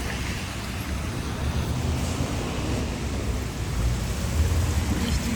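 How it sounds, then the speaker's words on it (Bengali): Steady rain pours down on a cold, wet day, making a dense, even hiss that fills the whole clip, with a low rumbling undertone and no clear breaks. "আর এই দেখেন কি বৃষ্টি"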